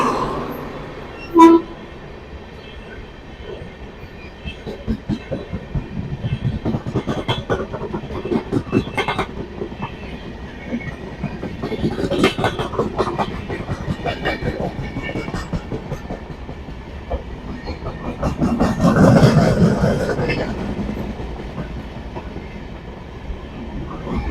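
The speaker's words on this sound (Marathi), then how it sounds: "W A P four locomotive आहे महाराष्ट्र एक्सप्रेस" Maharashtra Express with a WAP-4 electric locomotive passing Vishrambag railway station, a sharp horn toot at the start, then a loud continuous rumble with rhythmic clickety-clack of wagons rolling close by, swelling near the end.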